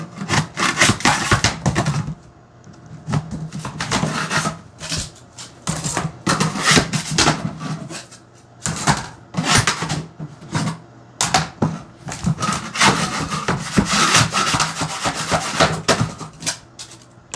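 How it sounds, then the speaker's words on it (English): A metal trowel scrapes and pops floor tiles up off plywood in repeated irregular bursts of harsh scraping and knocking, close and loud, with brief pauses. "I'm going to be taking a metal trowel like this and just popping up the rest of them"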